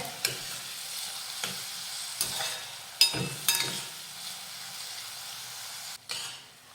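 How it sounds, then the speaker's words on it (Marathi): Onion sautéing gently in a pan toward light pink, a soft steady sizzle broken by several sharp scrapes and clacks of a stirring spoon, close and fairly quiet. "हलक्या गुलाबी रंगावर परतून घेऊयात कांदा करपवायचा नाही"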